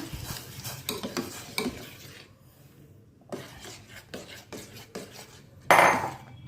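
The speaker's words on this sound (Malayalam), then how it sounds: "റവ കുറച്ച് കുറച്ചായിട്ട് ഇട്ട് കൊടുക്കാം കേട്ടോ എല്ലാം ഒന്നിച്ചിടണ്ട മിക്സ് ചെയ്ത് കൊടുക്കണം" Semolina is added bit by bit and mixed in a pan for a sweet made with jaggery, with close scraping and rubbing of a spoon against the pan in uneven strokes, ending in a louder scrape.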